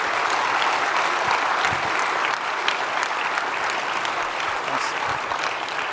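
Audience in a hall applauding the Federal Treasurer after a pre-budget address, dense and sustained clapping heard up close and loud throughout, with a voice briefly speaking over it.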